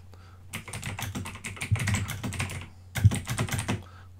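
Close, crisp keystrokes on a computer keyboard at a desk, tapped in rapid irregular bursts with a short pause near the middle before another flurry; no one speaks.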